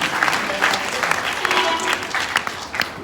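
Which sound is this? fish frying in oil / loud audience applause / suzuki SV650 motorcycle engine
loud audience applause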